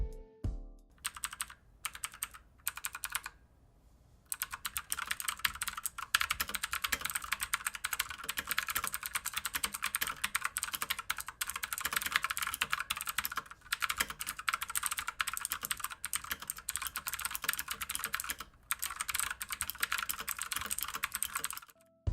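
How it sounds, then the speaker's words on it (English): Clicky typing on a tenkeyless mechanical keyboard with RGB lighting and Otemu blue switches: a rapid, sustained stream of sharp close-up key clicks with a few brief pauses early on, heard alone. "so you could hear how these Otemu blue switches sound"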